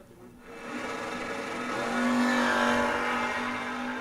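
A Camaro race car accelerates down the track at a memorial race, its engine note swelling from a distance into a sustained loud roar that holds steady to the end.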